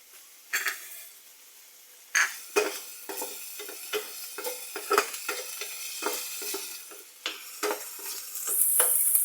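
Eggplant omelette (tortang talong) frying in a pan, a steady sizzle broken by repeated sharp scrapes and clinks of a utensil against the pan, close and fairly loud, with no talking.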